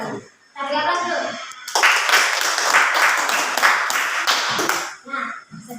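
Classroom applause as a group of students claps together, a dense burst of hand claps lasting a few seconds, with children's voices just before and after.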